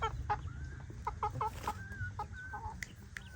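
Farm chickens clucking close by, a quick series of short, irregular clucks with a few higher squawks over a low background rumble.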